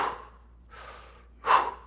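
Heavy breathing during a barbell snatch workout in a gym: three separate close breaths, with a soft one between two louder, sharper exhalations and no talk.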